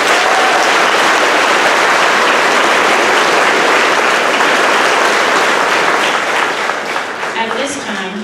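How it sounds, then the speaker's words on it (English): Loud, dense applause from the audience at an 8th grade graduation ceremony for the class of 2022, sustained and full before easing slightly toward the end. "let's give our 8th grade class of 2022 a round of applause."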